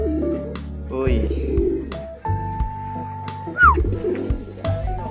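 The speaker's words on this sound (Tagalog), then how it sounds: "Gaganda ng ibon niya, oh." Pet pigeons, including checkered and red bar birds, coo in soft repeated calls close by over a steady low hum, with people talking in the background.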